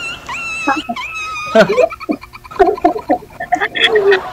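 A trapped dog whimpers and yips in high, whiny bursts, mixed with scrabbling and short yelps close by.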